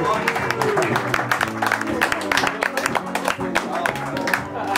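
A French television studio audience applauds on a talk show, a dense wash of clapping mixed with music and a voice talking over it throughout.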